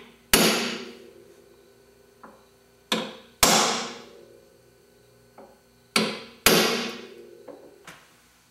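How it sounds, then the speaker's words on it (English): Sharp metallic ball peen hammer strikes ring out on a center punch, about seven blows in uneven pairs, each with a brief ringing decay, close and loud. "we'll use a center punch and a ball peen hammer to mark the location of the holes"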